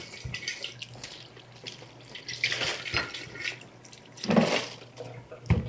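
Lemons being washed under a running kitchen tap, with water splashing and gurgling in uneven bursts and a faint hum underneath.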